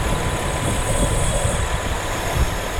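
A car engine runs steadily at idle while drawing carbon-cleaning liquid in through a vacuum leak, giving a loud, close, continuous low rumble with faint roughness and no voices.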